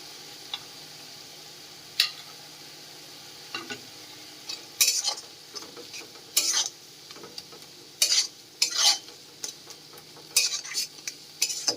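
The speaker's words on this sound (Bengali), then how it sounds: "এবার এটাকে একটু সময় ধরে ভেজে নেব।" Katla fish curry cooking in a pan with salt and turmeric, a quiet sizzle broken by sharp, repeated clinks and scrapes of a metal spoon stirring against the pan.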